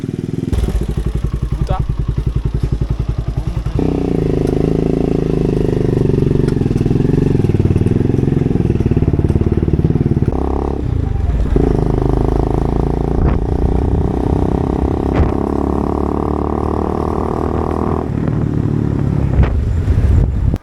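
A friend's motorcycle engine drones steadily, its pitch shifting as it speeds up and settles, close and loud throughout with voices talking over it.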